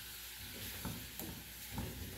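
Smoked linguiça sausage frying in a pan, a quiet steady sizzle with faint stirring scrapes and a few soft clicks.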